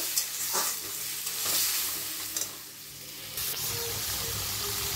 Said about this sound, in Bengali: ভালো করে মশলা দিয়ে কষে নেব।